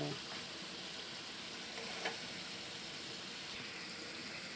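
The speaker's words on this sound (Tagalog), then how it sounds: "Ilulunod na natin ngayon ang ating gulay na sayote." Chayote tossed into a pan of sautéed sardines, giving a faint, even hiss of sizzling liquid with a slight watery gush and a small clink near the middle, steady throughout.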